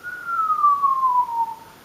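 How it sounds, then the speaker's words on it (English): A single person whistles one clear, steady note that glides slowly downward over nearly two seconds, close and alone against a quiet background. "Can you whistle it with me?"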